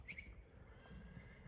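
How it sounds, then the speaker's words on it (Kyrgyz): A 1.70 m horse imported from Poland, offered for sale in Bishkek, gives a faint, brief whinny near the start over a low, muffled rumble, and the scene stays quiet afterward. "даяр ат экен туугандар"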